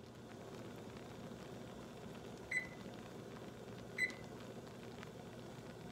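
A microwave oven hums steadily while strawberry jam boils inside, a low, even drone broken by two short, sharp beeps a second or so apart.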